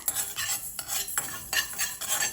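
Ground garam masala dry-roasting in a pan is stirred with a spatula in quick scraping strokes, a few brisk rhythmic swishes and light metallic taps close by, with only a faint sizzle beneath.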